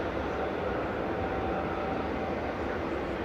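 Ryanair jet taking off on runway 05 left at Manchester Airport, heard as a steady, broad engine roar from a distance, holding constant throughout with no voices over it.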